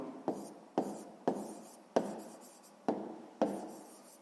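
A pen writes on paper in six short, evenly spaced strokes, each a crisp scratchy onset fading quickly, close and fairly quiet with no speech.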